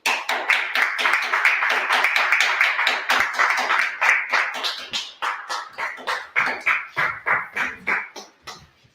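An audience gives loud, dense applause to honor a founder at a gathering, with a steady roar of clapping that thins into fewer, separate claps and fades out near the end.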